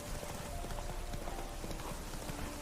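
Horse hooves galloping in The Witcher 3: Wild Hunt, a quick steady clip-clop rhythm running throughout at moderate distance over a constant background hum.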